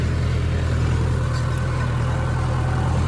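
A tractor engine runs steadily in gear while ploughing slowly at depth, a constant low heavy drone with no breaks, close and fairly loud.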